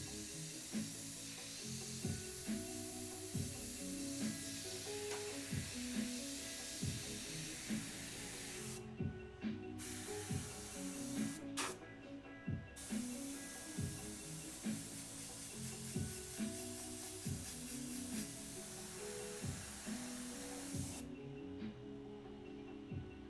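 An airbrush sprays paint in a continuous airy hiss, close up, broken by a few short pauses where the trigger releases, while soft music plays underneath.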